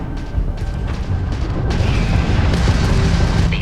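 Homing missile striking an enemy ship in the Starfield space combat game, a sustained loud booming explosion rumbling low and heavy throughout, with no talk.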